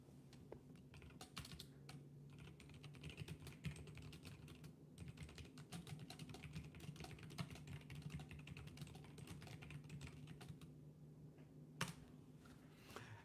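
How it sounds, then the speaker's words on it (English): Quick, uneven keystrokes clatter on a computer keyboard close to the mic, continuous bursts of soft clicks over a faint steady hum, with no voices. "I'm going to type it in the chat."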